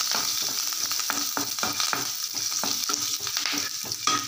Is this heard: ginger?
yes